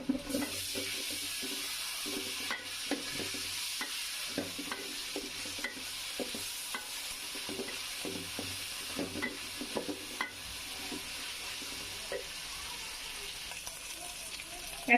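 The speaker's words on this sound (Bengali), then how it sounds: "আমার পেঁয়াজটা ভাজা হয়ে গেছে, আমি এখন আদা রসুন দিয়ে দিচ্ছি।" Ginger garlic paste frying with onions in a pot for Bengali bhuna khichuri, a constant close sizzle under frequent clinking scrapes of a spoon stirring, steady throughout with no speech.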